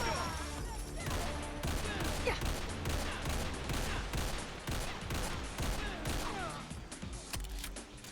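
A Ranger Rifle (M71 Manhunter) fires in Fallout 4 amid a loud, continuous fusillade of gunshots and game noise, with dense overlapping bursts over several seconds.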